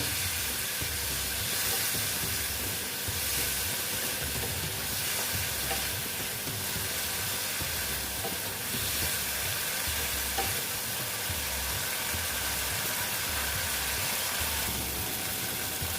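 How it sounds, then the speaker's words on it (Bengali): Rice coated with salt and turmeric sautés in a pan for a ridge gourd dish, a constant, moderately loud sizzle with soft stirring scrapes running throughout, no talking. "এই চালটা দিয়ে দিলাম দিয়ে এটার সঙ্গে ভালো মতন কষিয়ে নেব"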